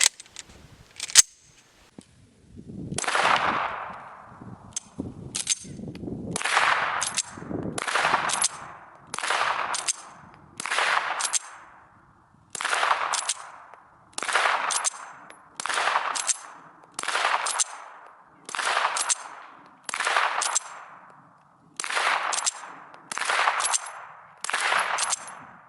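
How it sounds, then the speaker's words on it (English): Suppressed 9mm Glock 19 fitted with a Banish K9 suppressor and firing 115-grain rounds: about sixteen sharp, evenly spaced reports roughly a second apart, loud and close, with no talking. "Alright, we got the Banish K9 suppressor on it. Here's another mag full of 115."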